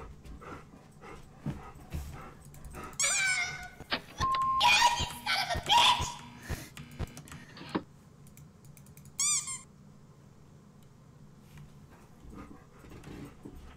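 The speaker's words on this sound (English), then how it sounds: "Oh, my dog wants to be pet, and I'm playing." A dog whimpers in short high-pitched bursts beside computer keys clattering during gaming, with scattered clicks and a few soft pauses between cries.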